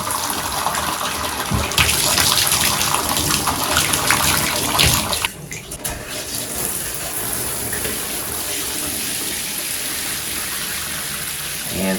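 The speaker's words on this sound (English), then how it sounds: "we are going to turn both hot and cold water handles or valves on" Water gushes steadily from a bathtub spout with both hot and cold taps open on a newly installed diverter, a loud continuous rush that briefly dips midway and then carries on evenly.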